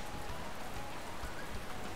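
Pouring rain in Pokémon Alpha Sapphire, a dense, even hiss of drops falling on surfaces, continuous and fairly soft, with no voices.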